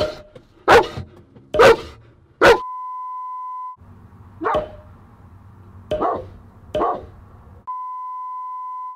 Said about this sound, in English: I'll leave the camera recording down here so you can still hear Enzo bark at me